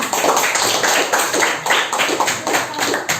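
A class audience claps together for a student group, a dense patter of hands with a few rhythmic surges, fairly close and loud.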